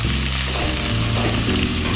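Onions frying in hot mustard oil, a steady close sizzle and crackle from the pan. It plays alone for about two seconds, with no talking.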